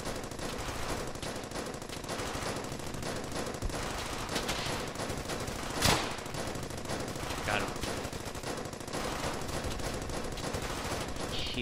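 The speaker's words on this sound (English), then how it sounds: "Keep that suppressing fire." Sustained suppressing gunfire in the World War II shooter Brothers in Arms: Hell's Highway, a dense, continuous wash of distant rifle and machine-gun fire with one sharper, louder shot standing out partway through.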